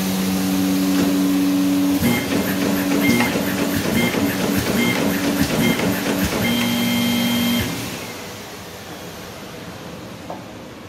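A Bacciottini OXO Multiskill creaser-folder machine fitted with a perforating tool feeds 350 gsm sheets, running with a loud rhythmic mechanical clatter and hum before winding down to quieter motor noise.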